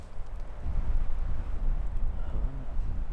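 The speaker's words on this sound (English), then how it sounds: "I don't know how well you guys can hear me with all this wind" Gusty wind buffets the microphone outdoors during an Idaho whitetail deer hunt in the rut, a steady rumbling roar with swelling gusts and no voices.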